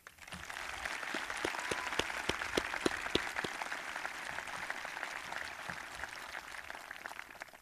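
Sustained applause from a graduation ceremony audience at Triton High School in 2014, honoring seniors entering the armed services: dense, steady clapping with sharp individual claps standing out, holding at an even level for several seconds.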